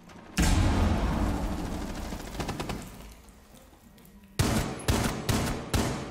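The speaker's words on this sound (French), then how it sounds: "J'ai mis des balles dans ses pieds." In a video game, automatic gunfire rattles out in a long sustained burst, then fades. Several more sharp, loud shots follow in quick succession near the end, with no talking over them.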